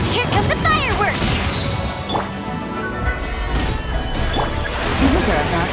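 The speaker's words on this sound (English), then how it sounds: "Here come the fireworks!" Fireworks bursting in the video game Genshin Impact, loud dense crashes and pops layered over game music and effects, with a voice talking throughout.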